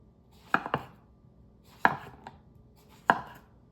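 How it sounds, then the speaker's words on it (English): A knife slices a zucchini into half-inch rounds on a cutting board, giving three separate bursts of crisp chopping, each a quick double or triple knock, close and clear with quiet between. "And then I'm gonna cut this zucchini just into about 1/2 inch rounds."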